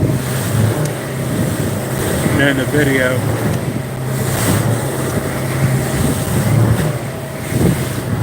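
A 1720 Keywest boat motoring in from offshore toward a jetty, its engine a steady low drone with wind buffeting the microphone throughout, while a voice talks briefly over it.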